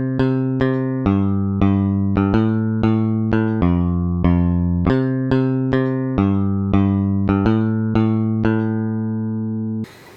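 Notes from a bass instrument sample pack play one after another in a steady sequence of clean, plucked-sounding tones, each decaying before the next, close and alone.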